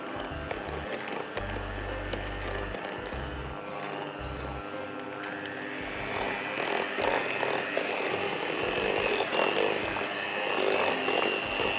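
An electric beater whirs continuously through pistachio cupcake batter, a steady mechanical buzz that grows somewhat louder and rougher in the second half, with no voices.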